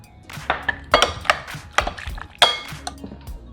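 Shrimp tossed with seasoning in a Chinese wok, a utensil scraping and clinking against the metal in uneven bursts, close and fairly loud with no talking.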